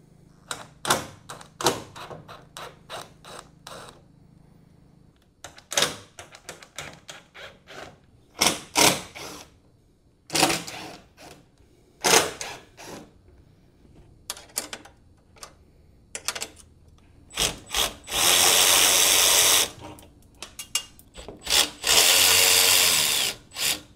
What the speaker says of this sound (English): I just got to remove these two screws there